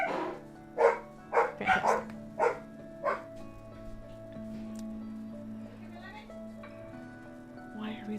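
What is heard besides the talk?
dogs barking and whining behind closed door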